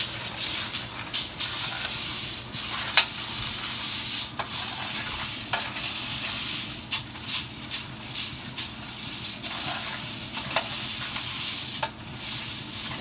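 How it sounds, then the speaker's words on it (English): Freshly roasted coffee beans stirred in a drum roaster's cooling tray give a continuous rustling, hissing rush with repeated sharp scrapes and clicks, close and steady, with a low mechanical hum underneath. "you want to stir your coffee to get some of that heat out of there"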